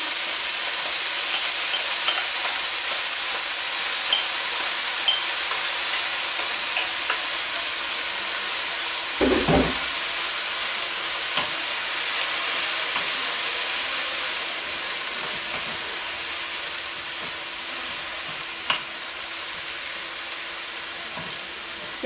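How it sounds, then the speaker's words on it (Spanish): Diced eggplant hits a pan of softened onion and garlic with a soft thump and a brief stir. Steady, close sizzling and frying hiss follows and runs throughout with no talk. "le voy a añadir lo que es la berenjena ya cortada a cuadritos muy pequeños"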